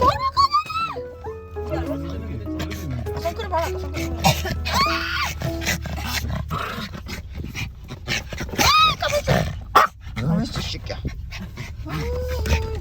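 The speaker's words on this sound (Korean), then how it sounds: "강아지 와! 왜 이렇게 흥분해?" An excited puppy whines and whimpers in high, wavering cries over steady background noise, with a person talking and exclaiming around it.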